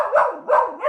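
A dog up for adoption gives three quick, close, loud barks or yips in a row, with no talking over them.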